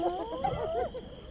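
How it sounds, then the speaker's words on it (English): A young hyena pup left alone at its den on the Liuwa Plain gives a brief rising and falling whooping call, faint and heard once against soft outdoor background. "The hyena pup calls out."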